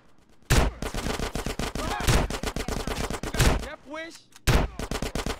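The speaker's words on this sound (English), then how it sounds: "Get some suppressing fire in there." Suppressing gunfire rattles in GTA San Andreas, with loud bursts of automatic weapons and repeated shots close by, while a voice briefly speaks over the shooting.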